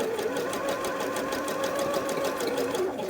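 A sewing machine runs a zigzag stitch along the edge of fabric, a steady rapid needle clatter with a fast even pulse, close and continuous throughout.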